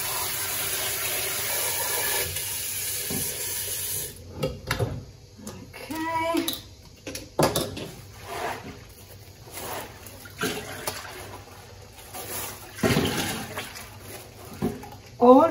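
Grated cassava pulp rinsed with water in a pot to wash out the starch, with intermittent splashing and pouring sounds at close range while people talk softly in the background.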